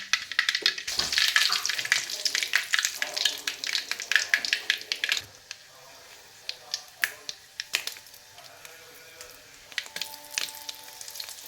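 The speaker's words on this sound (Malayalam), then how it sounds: "നമ്മൾ കറിവേപ്പിലയും 2 വറ്റൽമുളകും ചെറിയ ഉള്ളിയൊക്കെ ഒന്ന് ഇട്ട് കൊടുക്കും കേട്ടോ" Curry leaves, dried red chillies and shallots hit hot oil, crackling and spitting loudly at first, then settling into quieter, scattered sizzles and pops.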